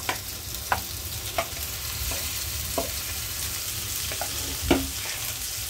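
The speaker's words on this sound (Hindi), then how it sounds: "अभी इसमें ऐड करेंगे ये जो कलेजी पोटा मैंने पहले से मैरिनेट करके रखा था, अभी ये इसको इसमें मिक्स करेंगे।" Marinated goat liver and offal being mixed into frying masala, a soft continuous sizzle with a few sharp spatula scrapes and knocks against the pan, fairly quiet and with no talking.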